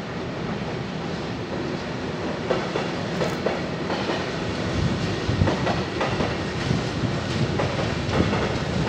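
A train rumbles past at Lovosice railway station, Czech Republic, with steady clattering of wheels on rails, a loud continuous roll with rhythmic clicks and no voices.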